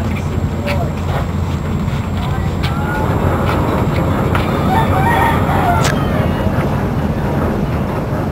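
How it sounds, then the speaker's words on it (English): A rooster crows loudly outdoors in Bohol, the Philippines, against steady wind rumble on the microphone, with indistinct voices in the background. "there's a rooster that's very happy to be home."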